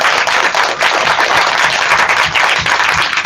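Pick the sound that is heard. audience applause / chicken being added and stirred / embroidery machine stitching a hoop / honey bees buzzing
audience applause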